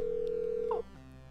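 A phone in the video game Grand Theft Auto 5 places a call, giving a steady electronic tone that cuts off abruptly partway through, followed by a faint lingering hum.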